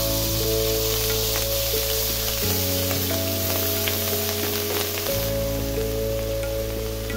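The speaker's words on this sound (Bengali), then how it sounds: "ডিম ভেজে তুলে নিয়ে ওই তেলেই গোটা জিরা, তেজপাতা আর শুকনো লঙ্কা ফোড়ন দিচ্ছি।" Whole cumin seeds, a bay leaf and dried red chillies tempering in hot mustard oil over medium-low heat after eggs were fried in it, a loud steady sizzle close up with no talk.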